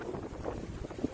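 Gusty wind buffets the microphone outdoors in rural farmland in Quirino province, Philippines, a low rumbling roar with irregular swells and no clear talk.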